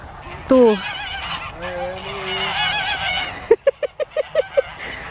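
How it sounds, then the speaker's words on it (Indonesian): Geese on a farm with radish fields and pear trees honk in loud, nasal calls, first a few drawn-out honks, then a quick rhythmic run of short honks close by. "ternyata bukan bebek tapi angsa"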